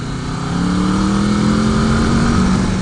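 A 650 motorcycle engine pulls hard under acceleration, a loud, close, rising drone with a strong steady tone, heard alone without voices.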